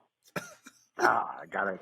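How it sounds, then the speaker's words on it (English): A few rough, raspy coughs, close and harsh, with a brief throat-clearing burst before two longer, gravelly hacks. "think he's got a smoker's cough"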